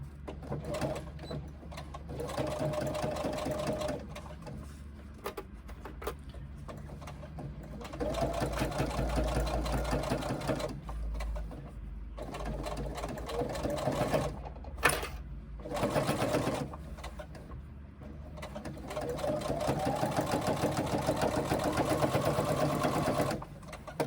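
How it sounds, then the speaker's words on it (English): A sewing machine stitches a pouch, backstitching a few stitches and then running forward again. The near whir comes in several bursts separated by short stops and mechanical clicks. "I'll go back a few stitches from where I stopped and start again so I can lock it in"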